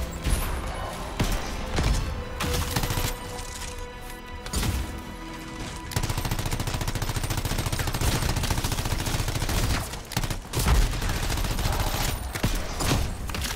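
Rapid bursts of weapon fire and heavy impacts in the video game Anthem, loud and dense with brief gaps between volleys, a near-continuous barrage over game sound.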